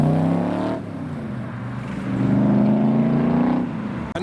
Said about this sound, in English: we now have the Cobra leaving